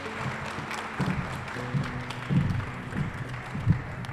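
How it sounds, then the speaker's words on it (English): An audience applauds at a COSAFA tournament media launch, a steady wash of clapping with a low hum and faint murmur underneath. "Ladies and gentlemen, once again, a big round of applause to the MEC."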